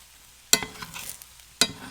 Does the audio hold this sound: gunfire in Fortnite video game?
no